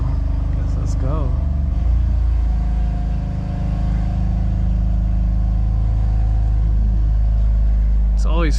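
A car is driven out of a tight home garage, its engine idling and revving in a low steady rumble, with a person talking over it and a few brief squeaks.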